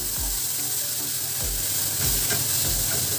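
Tomatoes hit a hot frying pan with a loud, steady sizzle, a dense close hiss broken by low thumps and stirring strokes, no voices.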